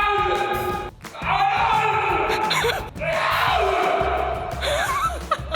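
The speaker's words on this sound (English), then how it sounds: "we had to get the scream just right, so we did it over and over and over again" A man gives long, loud, strained screams for a Rust-themed film scene, breaking off briefly and starting again, with shouting and raw yelling up close and little else behind it.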